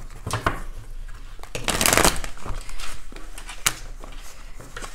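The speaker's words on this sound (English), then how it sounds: "I don't know why this shuffle just keeps getting stuck." Tarot cards being shuffled, a crisp riffling flutter with a louder burst in the middle, some snapping taps, quiet room otherwise.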